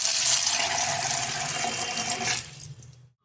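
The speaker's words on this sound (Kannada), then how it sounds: "ಸ್ವಲ್ಪ ಮುಳುಗಷ್ಟು ನೀರು ಹಾಕಿದ್ದೀನಿ." Water pours steadily into a vessel of chickpeas set to soak overnight, a dense splashing rush that runs for over two seconds before tapering off and stopping.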